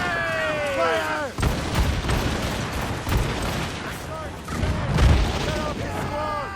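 Ship cannons booming in a naval battle in the video game Assassin's Creed Rogue, several heavy blasts spread across the stretch amid shouting voices and battle noise.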